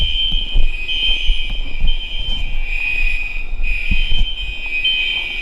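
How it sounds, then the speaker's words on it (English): A fire alarm sounds continuously with a loud, shrill, steady high-pitched tone, pulsing slightly in level over a low background rumble, with no talking. "Fire alarm is going out,"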